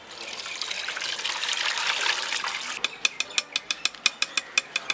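Raw chicken for homemade chicken shawarma is rinsed under running water, a steady rushing splash for a few seconds, then a quick train of sharp, evenly spaced clicks close by.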